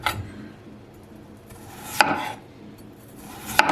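Knife slicing potatoes thinly on a cutting board, a few crisp separate cuts with a sharp tap as the blade hits the board, close and quiet between strokes.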